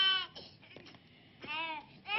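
An infant crying during a diaper change in a 1985 French film, with loud wailing bursts at the start and end and quieter whimpering sounds in between.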